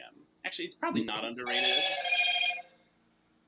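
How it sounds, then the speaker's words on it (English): A mobile phone rings once with a bright electronic tone lasting about a second, clear and fairly close, right after someone speaks during a trivia quiz game. "That was my phone."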